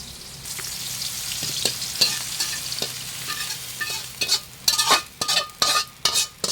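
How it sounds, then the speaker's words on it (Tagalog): Tomato, onion and garlic sizzle steadily in oil in a casserole pot, with a spoon stirring and scraping in bursts that grow louder and more frequent toward the end, close up with no talking. "Masarap po mga kapait pag ginigisa yung kamatis, sibuyas, saka bawang"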